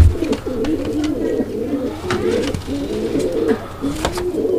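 A male pigeon coos in repeated low, throaty rolling phrases at close range, steady and rhythmic with brief pauses between calls.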